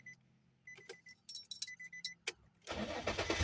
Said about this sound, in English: the car just turned on